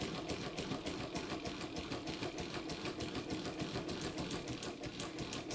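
A Mannan three-thread chain stitch machine stitches steadily through printed water-soluble stabilizer, a close, rapid, even mechanical chatter with a fast rhythmic pulse and an underlying motor hum, no voices.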